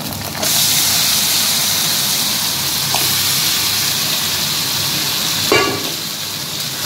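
Marinated mutton drops into a pan of fried onions and sets off a loud, steady sizzle of hot oil that holds throughout. Near the end comes a brief scrape of stirring.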